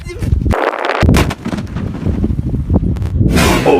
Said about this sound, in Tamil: டிஆல் அப்படின்ற ஒரு பேப்பர் பாம்பு இதை வந்துட்டு வச்சு பார்க்கலாம்.